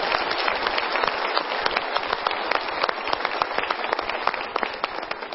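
An audience applauds the KPK, Indonesia's anti-corruption commission, at a Mario Teguh motivational talk, giving steady, dense clapping that carries on at full strength throughout with no voice over it.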